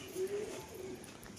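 A male pigeon gives soft, low coos, two short phrases, heard faintly and close up indoors with no one speaking.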